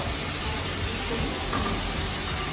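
Minced pork stir-frying in a pan, a steady dense sizzle and hiss that runs throughout without pause, close and fairly loud, with no voices.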